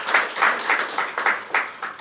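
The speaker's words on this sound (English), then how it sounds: "A big round of applause for" A small audience claps for a presenter after a talk on methane implementation guidelines. The claps are close, distinct and fairly loud in a steady rhythm, with no voices over them.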